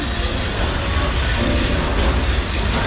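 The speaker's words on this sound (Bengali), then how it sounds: "আমাদের ট্রেন চলে যাচ্ছে।" A passenger train pulls away from Bhanugach station on a Sylhet trip in Bangladesh, its loud, close, continuous rumble and clattering mechanical noise rolling on without a break.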